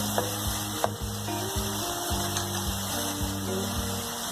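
Masala frying and being stirred in a pan for spicy macaroni, a steady close sizzle with repeated scraping and clattering stirs, no talking.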